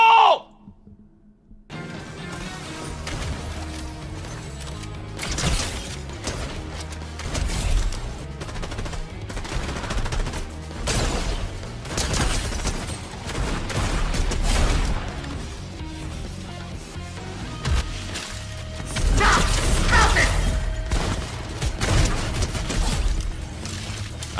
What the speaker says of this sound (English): How is this guy shooting me behind a wall?